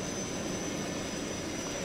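Steady, loud airplane engine drone from a plane in Just Cause 2, a continuous broadband roar with an engine whine on top, unbroken throughout and with no talk over it.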